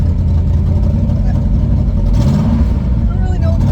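A 1960 Pontiac Bonneville engine with a carburetor that loads up runs loud and close, a steady heavy drone with a brief rise in revs partway through, as someone talks over it.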